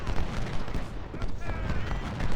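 Civil War era artillery and musketry from Ultimate General Civil War, a dense rumbling fusillade of repeated booms and crackling shots that carries on throughout, with a voice faintly underneath.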